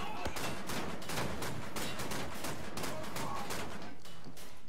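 Rapid bursts of shotgun and other gunfire in the shooter game Wolfenstein: The New Order, loud, dense and continuous, with blasts overlapping one another.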